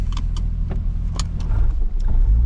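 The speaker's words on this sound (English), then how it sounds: "driving off the dyno. We'll take it for a spin down the road." Turbocharged Toyota JZX100 Chaser pulling away from a dyno, a loud, steady low engine rumble filling the clip, with brief higher clicks and rattles scattered over it.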